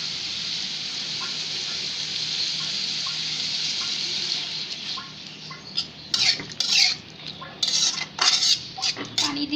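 Water is poured into a pan of chicken mince fried with spices, starting as a steady hiss, then turning into a burst of sizzling and clattering pan noises toward the end.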